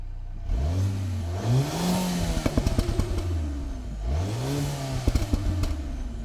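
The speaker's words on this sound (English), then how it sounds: "things get decidedly sportier and more burbly in the Sport Plus mode" A 2024 Mercedes-AMG GLA's active exhaust in Sport Plus mode revs hard twice in quick bursts, each rev ending in a rapid series of crackling pops and burbles.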